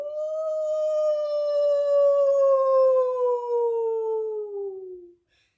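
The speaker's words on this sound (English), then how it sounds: "A wolf howled on this side" A wolf gives a single long, clear howl that holds steady, then slowly slides downward in pitch over about five seconds before cutting off into silence. It is close and alone, with no talking.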